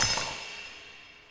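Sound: glass breaking in a video game

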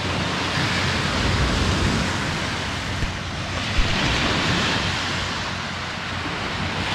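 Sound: sea waves on a beach

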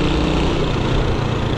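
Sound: motorcycle engine running with an unusual noise

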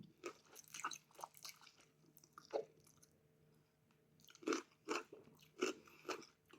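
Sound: eating rice noodle salad with shrimp in fish sauce

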